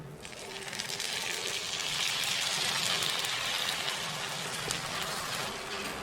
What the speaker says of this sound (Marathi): आता हे गुळ पाण्यात भिजून एवढं आपण पाणी घालू.